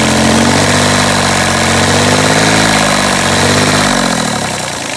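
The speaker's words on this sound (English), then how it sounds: "I'll rev the engine." A marine diesel engine runs loud and close, holding a steady, throbbing mid-pitched drone with a slight rise and fall before easing off at the end.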